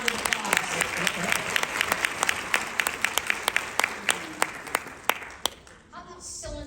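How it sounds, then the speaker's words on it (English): An audience at an association meeting applauds its national board of directors. Steady clapping runs under sharp, distinct individual claps, then thins and fades out near the end. "They deserve a round of applause."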